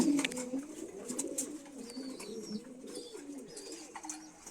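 Breeding pigeons coo softly and repeatedly nearby, low rolling calls overlapping against light background noise.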